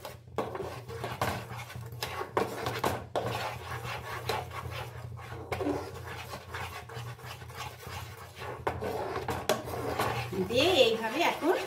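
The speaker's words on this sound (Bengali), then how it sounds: "এইভাবে এখন সমানে নাড়িয়ে দিতে হবে।" Steady scraping and rubbing of a spoon stirring patisapta pithe batter with date palm jaggery in a pot, continuous and close, with a low hum underneath throughout.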